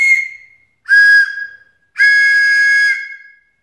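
Two handmade wooden whistles blow loudly in short bursts, and the final longer blast combines their two distinct pitches sounding at once, close by and with no talking.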